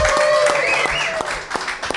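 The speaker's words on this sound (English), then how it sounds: "A big clap for Ratu Sugar" Audience applause at a fathering course graduation ceremony, a dense patter of clapping hands with a voice speaking over it throughout.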